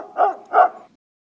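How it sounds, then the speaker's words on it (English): A pet dog gives two quick barks in close succession, near and fairly loud, with nothing after. "This is the dog"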